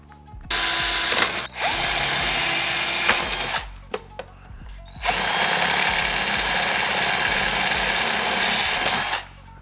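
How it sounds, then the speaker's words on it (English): Drilling out rivets on a car front grille, a Mercedes W212 GT-style grille: two long, loud, steady bursts of power drill whine, each running several seconds with a brief pause and a few clicks between them. "is to remove the last four rivets on this edges here"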